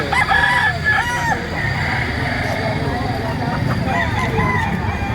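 Sweater-breed gamecock rooster crowing at an outdoor rainy-day poultry market in Lipa, Batangas, several crows rising and falling amid background chatter, clucking and a passing car, with someone talking nearby.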